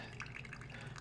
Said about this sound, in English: coffee water coming out in your initial push